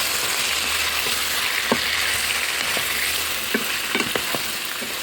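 Rabbit pieces with spices fry in a heavy-bottomed pan for rabbit in sour cream. A constant close hiss of frying runs under a few sharp scrapes and knocks as the mixture is stirred.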